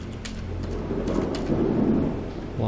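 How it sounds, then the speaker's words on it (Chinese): Heavy downpour and rumbling thunder in the tactical RPG 天地劫之神魔至尊傳, a steady dense roar of rain with low thunder swelling throughout, loud and continuous with no talk over it. "哇，下大雨了。"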